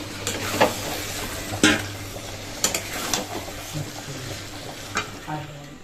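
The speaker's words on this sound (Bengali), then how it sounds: "চলো এখন হচ্ছে ভালো করে চিকেন দিয়ে কষিয়ে নিই" Chicken sautéed with spices in a pan: a spatula scrapes and clanks against the metal at irregular intervals over a soft, continuous frying sizzle, close and moderately loud.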